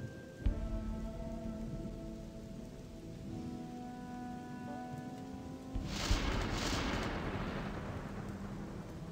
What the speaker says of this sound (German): Wie lange wird es eigentlich noch hier regnen?